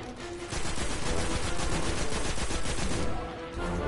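Rapid, continuous weapon fire from the video game Destiny, set on Mars, rattles in a dense burst of shots for several seconds, with a short pause near the end.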